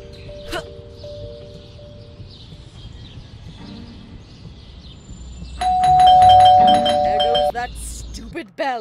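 A doorbell chimes in the Scary Teacher 3D video game, a bright ding-dong tone ringing out loudly near the end over steady background game sounds and faint talk.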